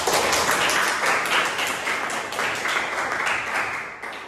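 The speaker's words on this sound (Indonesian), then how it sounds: "Tepuk tangan untuk kita semua." A classroom full of students applauds together during an Islamic religious education lesson, a loud dense burst of clapping that starts strong and gradually tapers off.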